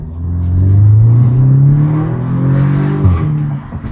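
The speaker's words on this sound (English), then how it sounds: "the rumble of the engine" An Audi car engine revs loud and close, its deep tone rising and holding, then dipping and climbing again as the throttle works.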